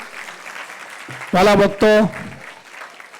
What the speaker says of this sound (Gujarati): પૂજ્ય મહારાજ શ્રીના આશીર્વાદને આપણે તાળીઓના નાદથી વધાવી લઈએ